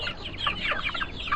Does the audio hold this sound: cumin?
no